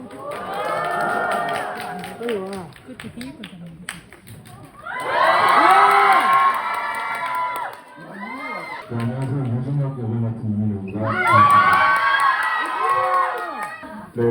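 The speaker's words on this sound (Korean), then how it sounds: "큰 박수로 맞아주세요." A crowd at a stage at the 2025 Ground Forces Festival, a military event, cheers and shouts in two loud swelling bursts, with voices and what sounds like children's shouts rising over the noise between quieter moments.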